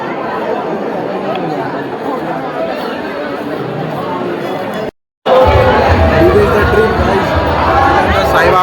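Dense crowd of devotees at the Shirdi Sai temple, a loud continuous babble of many voices with brief cutoff midway before the hubbub resumes even louder.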